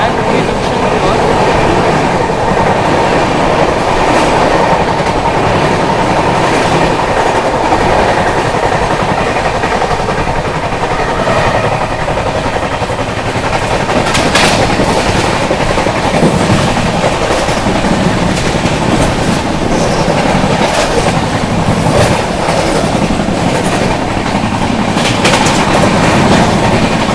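The 22412 Arunachal AC Superfast Express runs at speed near Etawah Junction, heard from onboard as a loud, continuous rumble with rhythmic clickety-clack of wheels over rail joints, and occasional sharper rattles.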